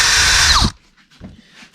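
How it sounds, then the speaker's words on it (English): A power drill cuts a groove into the interior trim of a 2021 Audi A3 8Y, a loud, close, high whine for under a second that stops abruptly, followed by faint handling noises. "So I'm just gonna get the drill"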